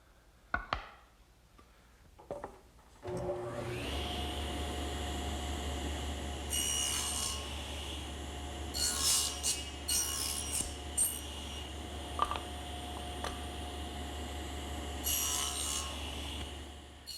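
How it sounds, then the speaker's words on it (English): Hand saw making shoulder cuts along the edges of wooden rails for a blanket chest, a steady continuous rasping stroke that runs close and fairly loud for most of the stretch after a few knocks at the start. "now the next thing I have to do is make my shoulder cuts on the edges"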